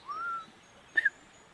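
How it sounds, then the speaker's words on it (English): A whipbird or riflebird calls outdoors, a male and female calling in two stages: a rising whistled note, then after a pause a sharp doubled crack-like note, fairly faint against quiet background. "It's a rifle bird or a whip bird."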